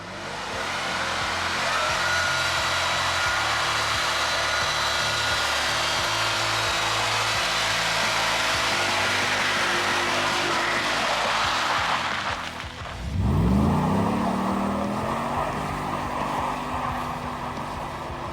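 A pickup truck on BFGoodrich KO2 all-terrain tires spins through a burnout in snow, a loud sustained grinding roar of engine and wheelspin that cuts off sharply and then rises again as the revs climb.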